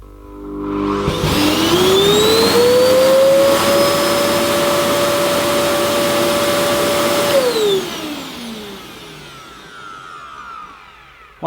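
A Hoover Enigma 2300-watt vacuum cleaner switches on, its motor whine rising to a loud steady roar with a high tonal hum, then winding down after several seconds.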